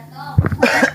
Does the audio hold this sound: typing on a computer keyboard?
no